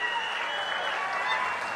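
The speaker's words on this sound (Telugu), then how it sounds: "గట్టిగా చప్పట్లు కొట్టి మీరందరూ కూడా అభినందించాల్సిన అవసరం ఉంది." Applause from a public audience at a speech event for water users in Malyala, Nandyal district, a steady, dense wash of clapping that holds evenly for about two seconds with no break.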